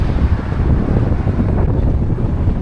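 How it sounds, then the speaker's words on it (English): Strong northwest headwind buffets the microphone of a touring cyclist, a loud continuous low rumbling roar with no speech. "Today I'm battling a really strong headwind today out of the northwest."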